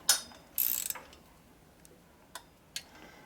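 A ratchet works on bolts during an alternator and primary repair on a 1988 Harley FXR, giving a quick burst of clicking followed by a few sparse, isolated ticks in a quiet space.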